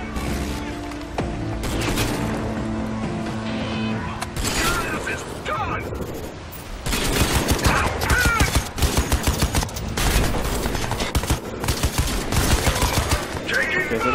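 Heavy gunfire in the video game Crysis 3: dense, loud bursts of rapid shots that build after a quieter, music-like stretch, with voices talking over the action.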